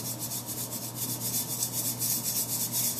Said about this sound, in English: I'm gonna put what we ground up in the jaw crusher in the 250 micrometer sieve, and I'm gonna shake it.